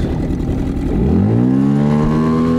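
A Tohatsu 9.8 outboard motor on a small boat, fitted with a test propeller, is opened to full throttle: a close, loud engine roar that climbs steadily in pitch and settles into a strong, sustained drone.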